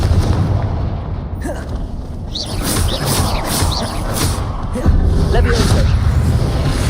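In the video game Hogwarts Legacy, a Confringo fire spell sets off booming explosions among other spell blasts, loud and repeated over continuous combat noise, with a person talking.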